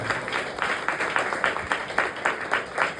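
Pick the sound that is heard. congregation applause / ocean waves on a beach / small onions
congregation applause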